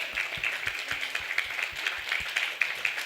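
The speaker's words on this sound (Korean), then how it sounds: "And can you all just give them a round of applause?" A church congregation at a Sunday celebration service gives a round of applause, heard as fairly faint, evenly paced claps with a regular rhythm.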